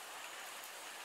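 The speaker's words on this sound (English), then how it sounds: "Out in the rain." Steady rain hisses down in a dense, even wash, close and continuous with no voices.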